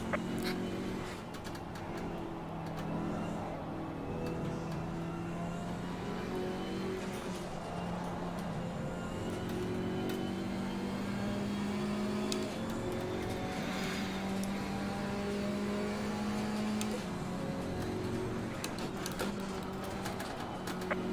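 A KTM X-Bow GT4 race car's engine drones steadily for a long stretch in Assetto Corsa Competizione at Suzuka, with other GT cars running close in a big pack.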